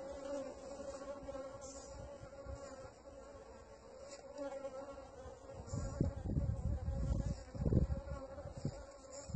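Honey bees buzz steadily around several beehives in an apiary, a dense continuous hum with louder swells near the end and no talking.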